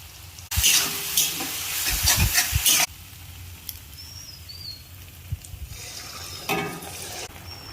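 Marinated chicken is stirred into ghee with whole garlic and red chilies in a clay pot on a stove for restaurant-style handi chicken. Loud scraping and sizzling come first, then a softer, steady sizzle broken by another brief stir.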